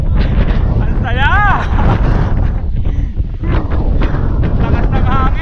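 Strong gusts on a mountain bike trail buffet the microphone in a constant loud roar, with voices calling out over the wind.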